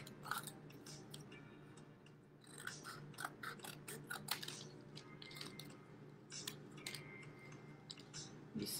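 Soft, close snipping of scissors cutting a paper animal mask, a string of faint irregular clicks and crisp cuts over a low background hum.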